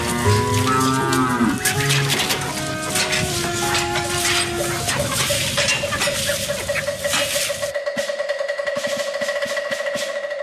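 Several cows moo loudly and repeatedly on a farm where cows were milked by hand, long drawn-out calls overlapping one another against a steady rural background, with no talking.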